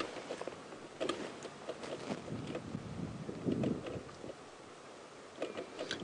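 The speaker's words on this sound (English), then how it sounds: "So you can see quite windy today." Gusty wind buffets the microphone in uneven rumbling bursts on a dry, drought-stricken safari drive, with a steady hiss beneath.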